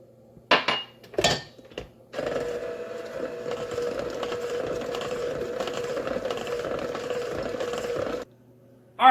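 Cake batter being mixed in a bowl, a steady scraping and clattering of utensil against bowl that runs continuously for about six seconds after a few sharp knocks, fairly close and without talk.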